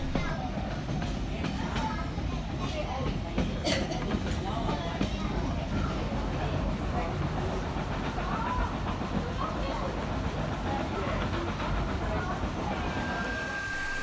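Locomotive 2705 hauls its train along the rails toward Buxton in the New South Wales countryside, giving a steady rolling rumble with faint clicks and hiss that carries on unbroken for the whole stretch.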